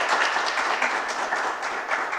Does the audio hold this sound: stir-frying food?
no